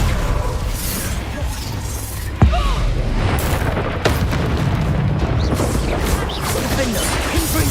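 Booming magical blasts from the Confringo spell in the game Hogwarts Legacy, a loud crack at one moment and another shortly after, set in dense continuous battle noise with rumbling and crashing throughout.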